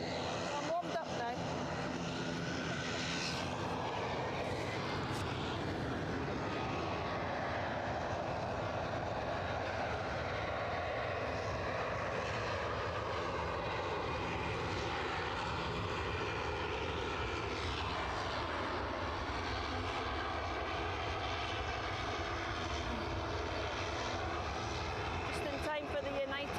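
Airliner engines roar steadily at Edinburgh Airport around a United flight, a broad sustained rumble that swells and shifts over nearly half a minute, with someone talking over it.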